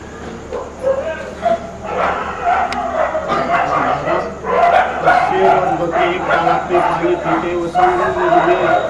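Several dogs bark repeatedly in the background through the whole stretch, mixed with steady talking at an indoor spiritual class gathering in Farrukhabad.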